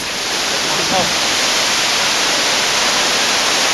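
A tiered waterfall in Kanchanaburi, Thailand roars in a steady, loud, broadband rush of falling water, close by and continuous with no other sounds standing out.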